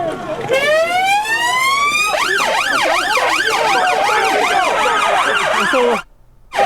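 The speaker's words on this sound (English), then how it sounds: "They hear the sirens." Loud sirens wail nearby at a street protest outside the Bell Hotel in Epping, Essex, a rising tone giving way to a rapid yelping warble that cuts off near the end, with crowd noise underneath.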